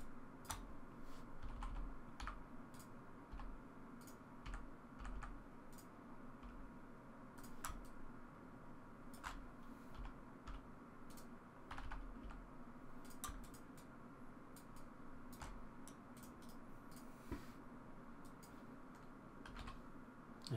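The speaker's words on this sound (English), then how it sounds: "I'm using the bracket keys, by the way, to increase and decrease my brush sizes." A computer keyboard is typed on while editing in Photoshop, with bracket keys tapped repeatedly: light, close clicks in irregular bursts over a soft background hum, no voices.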